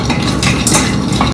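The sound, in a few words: frying dry fruits and nuts in a pan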